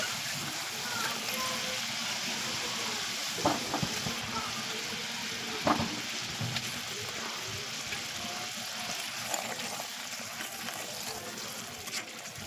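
Raw plantain and boiled potato kofta balls go into a pot of boiling water and simmer with a soft, steady bubbling hiss, while a person talks over it.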